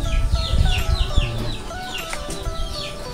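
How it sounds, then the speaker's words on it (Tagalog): Backyard chickens cluck and cackle in a busy, overlapping chorus, fairly close and continuous, with a clatter of background noise in a rural home setting. "pasensya na kayo sa ingay ng mga manok dito, yung mga huni nila"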